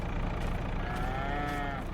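A single drawn-out cow moo from the video game Farming Simulator rises and bends over a steady bed of farm background noise, heard clearly without any talk.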